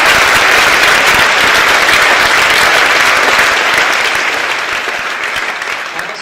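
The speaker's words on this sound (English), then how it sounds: "So let's please give a round of applause for all of our sponsors." A large audience at a Formula SAE student racing team's car unveiling claps in sustained, loud applause for sponsors, a dense wash of clapping that fades slightly toward the end.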